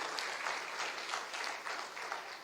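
A church congregation applauds the actors after a performance during a sermon, steady dense clapping from a crowd throughout, moderately distant and even.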